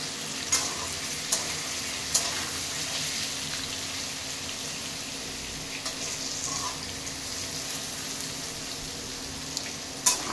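Paneer frying in a pan for palak paneer, giving a continuous close, rain-like sizzle throughout with a few faint clicks of a spatula against the pan.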